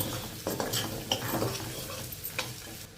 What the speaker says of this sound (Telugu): ఇప్పుడు ఒక నిమిషం ఫ్రై చేసేసుకుందాము